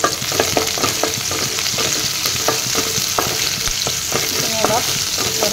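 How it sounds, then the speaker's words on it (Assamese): Spice paste with dried red chillies being fried in hot oil for a fish curry with jute leaves, with a loud continuous sizzle and a steady rhythm of close spatula scrapes and taps throughout. "অলপ লৰাই লৈছোঁ"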